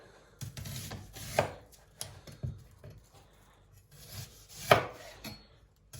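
A knife slices an onion into rings on a cutting board, producing irregular close thuds and crisp crunches, several cuts spread out with quiet pauses between them.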